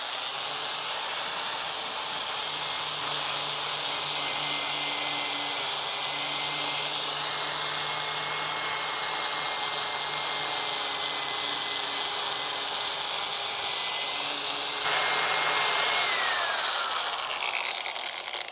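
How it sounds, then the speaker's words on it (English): A bench grinder fitted with a buffer wheel polishes a part from a 1982 Honda CB 900F motorcycle, giving a steady, loud, close motor whine with a broad hissing rush that rises slightly near the end. "I've got this grinder and I put a buffer wheel on it, more of that B-Cut on, and it's going to be noisy"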